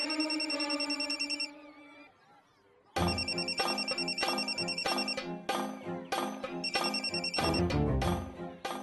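A telephone rings loudly indoors in repeated, bright, electronic bursts. One ring fades out, a short silence follows, then a rapid run of ringing resumes and continues steadily.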